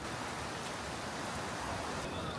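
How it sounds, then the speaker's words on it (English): Steady, dense hiss of heavy rain pouring down in Seoul, constant and loud with no pauses or voices. "It started to rain heavily,"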